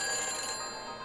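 Telephone ringing on the line to a phone booth in the Back to the Future Telltale video game, Episode 5, a steady electronic ring tone holding through the short moment with no voices over it.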